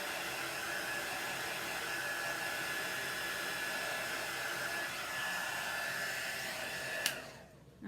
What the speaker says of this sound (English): If I didn't use the dryer, this would be dry in 5 or 10 minutes.